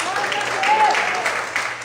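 A church congregation applauding during a worship service, a steady wash of clapping under a preacher's ongoing voice.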